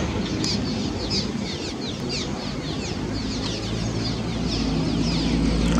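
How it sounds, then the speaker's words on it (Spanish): Many birds, including clucking fowl, calling along the Sinaloa river at Sinaloa de Leyva, a busy chorus of chirps and clucks under steady outdoor wind or water noise, heard from a bridge. "Muchos pájaros."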